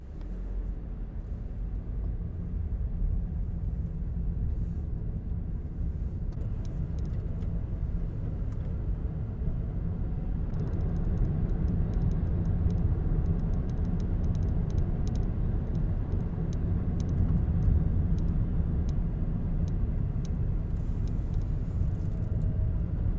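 Inside a moving vehicle's cabin, a steady low road-and-engine rumble fills the space continuously, even and unbroken, with faint higher hiss riding over it.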